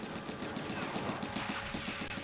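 Rapid, continuous gunfire from a mecha in the video game Gundam Blue Destiny, a steady rattling burst of evenly spaced shots running throughout at a constant level, with no talking.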